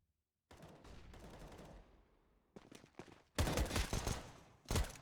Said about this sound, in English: Pudgy pushing up with his pistol, Mur as well, tapping away with a P250.